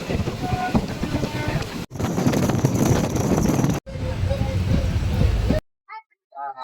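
Moving train inside an Indian sleeper coach: a loud, steady rumble of rolling wheels with clattering track noise, broken by two short gaps, then near-silence at the end with a few faint voices.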